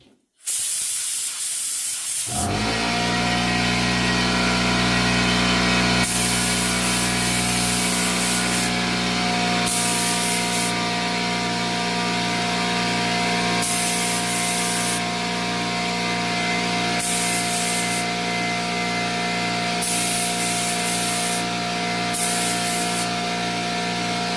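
An Aeropro LVLP A610 spray gun sprays paint on a Farmall 450 tractor, giving a loud, steady, continuous hiss that holds without pause for over twenty seconds, with a faint mechanical hum underneath.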